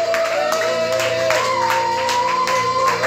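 Worshippers in a church applaud and cheer to glorify Jesus, a continuous roar of clapping and crowd voices with a sustained tonal element running through it.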